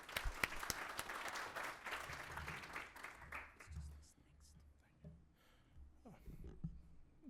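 An audience applauds to welcome speakers at an Aboriginal eye health forum, a dense burst of clapping that thins out and fades over several seconds into a few scattered claps and room noise.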